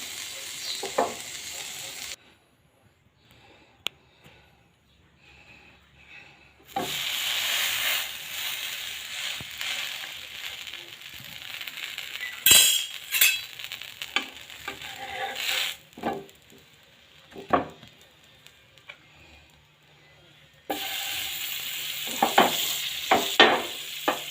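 Tawa sandwich roasting in butter on a hot griddle, a bright steady sizzle that stops and restarts in stretches, with occasional spatula scrapes and clicks.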